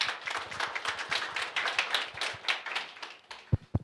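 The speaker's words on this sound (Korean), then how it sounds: "23년 수고한 우리 모두를 위해서 큰 박수 부탁드립니다" Staff at a company town hall meeting break into a short burst of applause, many hands clapping close and dense, thinning out to a few final claps.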